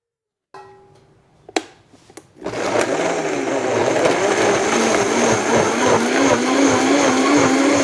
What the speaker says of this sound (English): we're gonna get those blended up to a nice puree